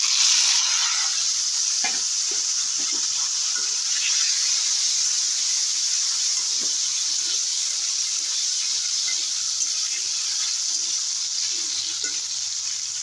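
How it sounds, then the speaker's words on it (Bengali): Taro and mixed vegetables fry steadily in hot oil in a rustic village kitchen, a constant close sizzle with occasional soft stirring scrapes and no talking. "সবজিগুলো একটু ভালো করে ভেজে নেব"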